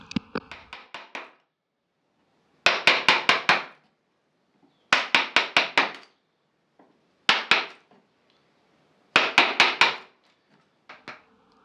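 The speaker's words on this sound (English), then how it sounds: "Now it's time to use the chisel again to remove the majority of the waste." Hand chisel driven by a mallet to remove waste wood from a dovetail joint, quick bursts of four to six sharp knocks repeated in close clusters separated by short pauses.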